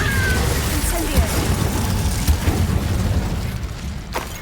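An Incendio fire spell cast in the Hogwarts Legacy video game bursts out as booming blasts and crackling pops within dense, continuous battle noise, with a voice mixed in.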